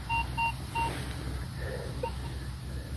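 A metal detector gives three short, evenly spaced electronic beeps at the start, then a few fainter tones, over low rumbling outdoor background noise.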